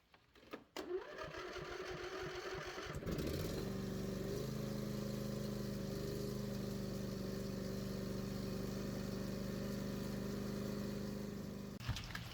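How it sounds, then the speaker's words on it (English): A John Deere riding mower engine cranks, catches after a couple of tries and settles into a steady, even idle with a constant hum, running close by until a click near the end. "Now we will start the engine to get the oil warm."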